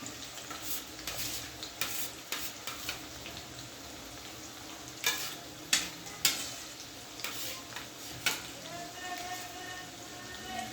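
Finely chopped onion fries in hot oil in a kadhai, a soft steady sizzle with a few sharp spoon clacks and scrapes against the metal, and a voice talks over it.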